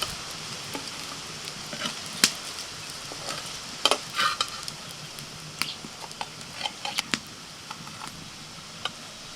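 A breakfast snack frying in a pan, turned to cook lightly on both sides, with a soft steady sizzle and scattered clicks and scrapes of a spatula, fairly faint.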